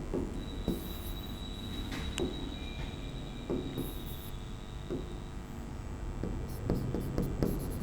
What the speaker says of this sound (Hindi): एक बात यहाँ पे यह लिख लेंगे बेटा